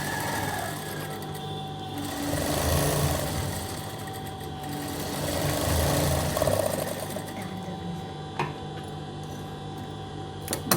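An electric sewing machine runs steadily while stitching fabric, a continuous close whirring hum with a light mechanical ticking that swells and eases in a few waves throughout.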